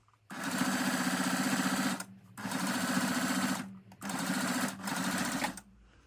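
A sewing machine stitching a shoulder bag seam runs in three steady bursts of rapid, buzzing needle strokes, close and loud, with short pauses between them.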